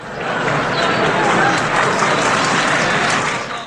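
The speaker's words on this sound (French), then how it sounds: "Je vous demande un tonnerre d'applaudissements pour Eunice et Denise Bergoud." A crowd bursts into loud, sustained applause, dense clapping filling the whole stretch with a few cheers mixed in.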